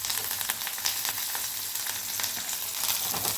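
Curry leaves and coriander frying in hot oil for tomato rasam, a steady loud sizzle and crackle throughout with no voices.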